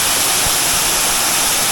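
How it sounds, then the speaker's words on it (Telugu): The Mahithapuram waterfall roars as a loud, steady rush of falling water, close and continuous with no voices. "బట్ వాటర్ ఫాల్స్ మాత్రం కిరాకుంది పోండి"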